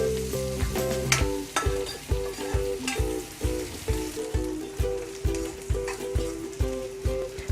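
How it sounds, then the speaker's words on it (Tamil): Onions sauté in a pan while cooking a Tamil banana-flower tamarind curry, a continuous sizzle under rhythmic metallic stirring taps, close and fairly loud. "இப்போது வெங்காயம் நல்லா வதங்கிடுச்சு."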